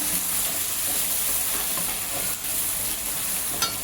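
Ginger, garlic and reddish-browned onion frying in a pan for chicken biryani, a steady close sizzle with soft stirring scrapes and a brief louder hiss near the end.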